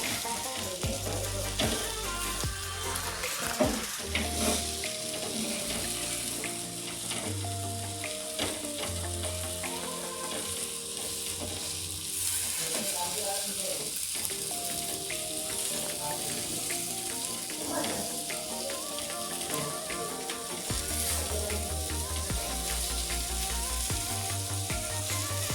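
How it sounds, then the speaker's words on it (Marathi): Fish frying on its second side in a pan, a steady close sizzle that runs unbroken for the whole stretch with background music playing underneath. "आता मच्छी आपली दुसऱ्या बाजूने आपण भाजून घेऊया."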